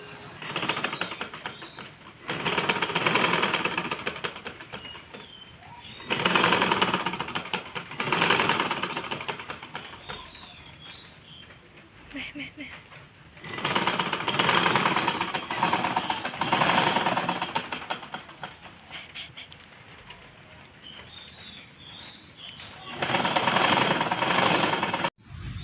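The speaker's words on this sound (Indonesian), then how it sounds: "getaran dari mesin jahit yang digunakan oleh pekerja jahit atau penjahit" A tailor's sewing machine runs in loud mechanical bursts of several seconds each, separated by quieter pauses, repeating through the stretch.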